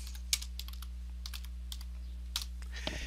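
Computer keyboard being typed on in short, sparse clusters of key clicks, close but soft over a steady low electrical hum, with no voices.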